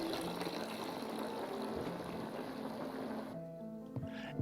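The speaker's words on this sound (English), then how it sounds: "let's dump out our excess water" Excess water is dumped out of a home brewing container, a continuous gushing pour that runs steadily before tapering off into a few trickles and drips near the end.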